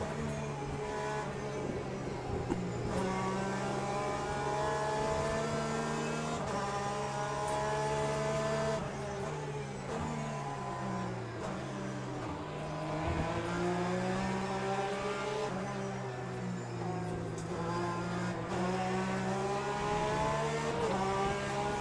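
Porsche race car engine in the LMU racing video game, a continuous droning engine note with repeated rises and falls as it accelerates and shifts, steady and fairly close, without talk.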